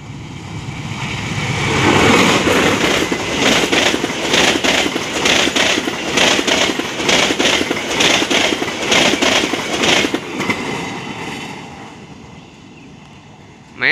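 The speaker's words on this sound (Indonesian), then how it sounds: "KA Cikurai menyilang KA Pasundan Tambahan." KA Cikurai passenger train rolling through Haurpugur station as it crosses the KA Pasundan Tambahan, a loud sustained rumble with rhythmic wheel clatter that builds, holds for several seconds, then fades.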